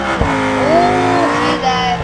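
A drag-spec BMW in the driving game BeamNG Drive roars along, loud engine tone rising and falling with a brief tire squeal in a short burst of driving.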